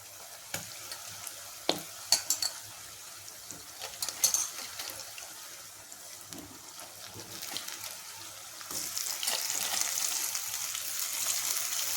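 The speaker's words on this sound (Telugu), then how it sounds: "ఉల్లిపాయలు వేపుకొని క్లీన్ చేసుకున్న పీతల్ని వేసేసుకుందాం." Cleaned crabs sizzle and fry in a pan of onions, with a steady crackling hiss broken by scattered stirring clatters, growing louder and denser toward the end.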